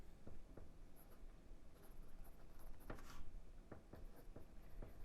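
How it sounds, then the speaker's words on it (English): Soft, close scratching of a Pentel Graph Gear 500 0.3 mechanical pencil on paper in short irregular strokes, faint and quiet with light taps between them. "And we'll just try out the pencils."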